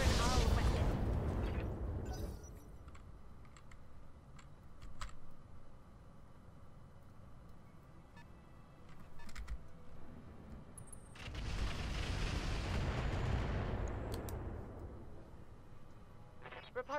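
Mech weapons firing and explosions in the video game Roguetech: a heavy rumbling burst at the start and a second long roar of blasts midway, with scattered sharp impacts between them and a voice talking over the action.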